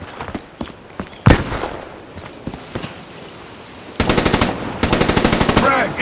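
HVK-30 assault rifle fire in Call of Duty: Black Ops III multiplayer: scattered single shots and short bursts, then two sustained rapid automatic bursts, loud and close with distant gunfire around.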